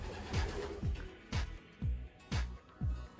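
Young pigeons suffering from young pigeon disease coo in a loft, giving six evenly spaced low, falling coos about half a second apart, close by, over faint background hiss.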